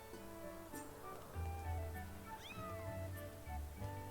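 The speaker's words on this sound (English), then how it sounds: "I heard the meow of Mia." A cat meows in The Legend of Zelda: Skyward Sword, a short sweeping cry set over looping game music and soft ambient sound, fairly faint in the mix.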